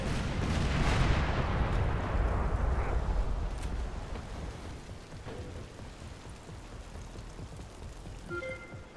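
A vehicle explodes in the video game Crackdown, a loud broadband blast opening the clip and rumbling away over several seconds, with faint debris and a few small tones near the end.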